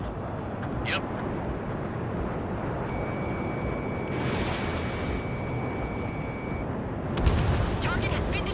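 A destroyed target explodes in the combat flight game Ace Combat 7, a deep rumbling boom rolling under constant jet engine roar, with radio chatter and a second burst of blasts near the end.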